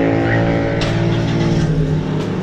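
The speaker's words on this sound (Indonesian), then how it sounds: "Nah, mobilnya nyala dan ini tentunya terkunci." A 2010 Toyota Innova engine running after a keyless remote start, a steady close idle hum with a low rumbling drone and faint clicks on top.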